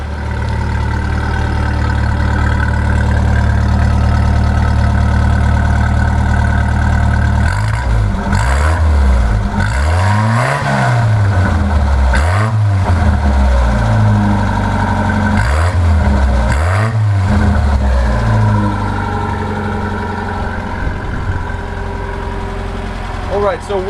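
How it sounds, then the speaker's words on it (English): A cold 1985 Toyota LiteAce CM21 truck with the 1300cc 4K-J engine idles loudly up close, its exhaust note rising and falling through several quick revs before settling back to a steady idle. "And we're going to show you that the exhaust note that it makes"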